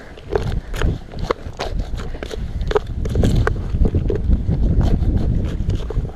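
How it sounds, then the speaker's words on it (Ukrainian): Gusty wind at a lake buffets the microphone in a steady low rumble, with scattered knocks and rustles on top and no voices. "Вітер дує."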